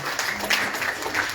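A church congregation claps in acclaim of the Lord during a worship service, a brief burst of steady, close applause heard on its own.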